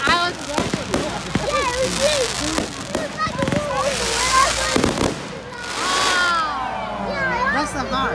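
Bonfire Night fireworks bursting outdoors by a lake, a rapid string of sharp cracks and booms with crackling rolls, some near and loud, while people talk and exclaim throughout.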